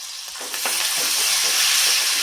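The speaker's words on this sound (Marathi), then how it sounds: "त्यानंतर ही भिजवलेली चना डाळ घालायची" Soaked chana dal hits a hot pan for chitranna lemon rice, setting off a loud, steady, hissing sizzle that swells and holds for the whole moment.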